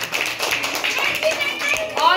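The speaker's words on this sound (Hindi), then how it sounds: "ताली बजा दो" Children clapping hands together in a classroom, a dense continuous patter of many small hands mixed with young voices chattering underneath throughout.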